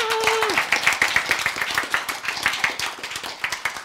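Rhythmic group clapping in a church lecture setting, sharp regular claps in a steady beat near at hand, following a short spoken tone at the start.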